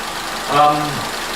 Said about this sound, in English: this engine is running well